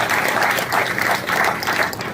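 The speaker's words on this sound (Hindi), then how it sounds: "एक बार सीए लोग के लिए अभिनंदन में तालियां बजा दीजिए" A crowd applauds to honour chartered accountants at a Doctors' and CA Day felicitation event. The clapping is dense and sustained, swelling slightly in waves at moderate loudness.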